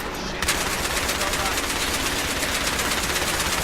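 Automatic gunfire in the Battlefield 3 video game roars as a dense, continuous stream of rapid shots, loud and sustained from the first half-second to the end, with no break.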